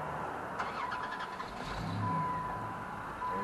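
A car engine with no exhaust pipe starts and settles into a loud, raspy idle, rough and unmuffled, with a faint steady tone running underneath.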